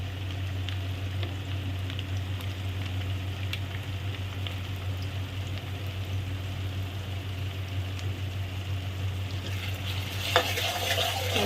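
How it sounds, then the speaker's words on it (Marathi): Ginger-garlic paste and tomatoes sautéing in a pot for a one-pot veg biryani, a steady close sizzle with occasional stirring scrapes throughout and a brief louder clatter near the end. "टोमॅटो टाकून थोडा परतवून घेऊया। आता आलं लसणाची पेस्ट टाकते मी"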